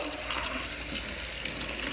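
Water runs steadily from a faucet in a house being renovated, turned on to test the newly connected plumbing for leaks. The rush is continuous and fairly quiet, with no voices.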